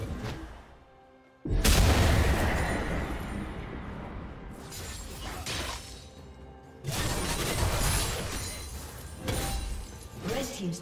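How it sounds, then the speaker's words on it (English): A turret crumbling in a League of Legends match, a loud crashing, shattering burst followed by rumbling debris and a second heavy impact, with game effects and faint voice lines around it. "Red team's turret has been destroyed."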